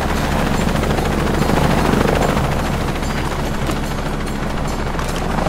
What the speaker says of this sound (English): Okay, Jonah, it's great that you got the chopper going,